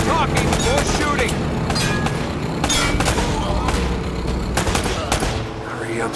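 Rapid gunfire and booming shots from the video game Uncharted: Drake's Fortune crackle loudly and continuously, with voices talking over the firefight.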